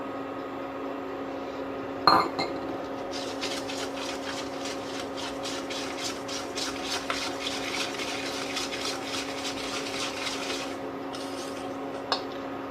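A whisk or spoon mixing cannelé batter with flour, salt and eggs in a bowl, with a sharp clink followed by a steady run of fast rhythmic scraping strokes, close and fairly quiet over a constant appliance hum.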